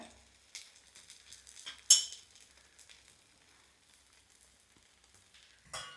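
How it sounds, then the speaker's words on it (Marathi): Ghavane, a thin Konkan rice-flour crepe, sizzles softly on a hot pan with a faint steady crackle, broken by a few brief clinks of a utensil and a louder scrape near the start and at the end. "हां तर दोन्ही बाजूनी चांगला शेकून घेऊया"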